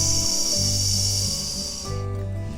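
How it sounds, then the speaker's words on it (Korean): A long, steady airy hiss of breath during Pilates breathing, in through the nose and out, fairly close, stopping abruptly near the end, with soft tonal music underneath. "코로 숨 들이마시고 내쉬고"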